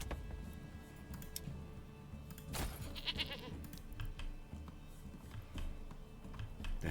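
Goats bleat in the medieval city-building game Manor Lords, one soft bleat standing out amid quiet ambient game sound and scattered keyboard and mouse clicks.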